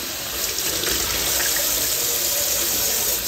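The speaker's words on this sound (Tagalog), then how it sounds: "Babad ko po muna sa malamig na tubig para ma-stop yung cooking." Cold water running from a tap for soaking cooked morel mushrooms, a steady close splashing hiss that stays even throughout with no talking.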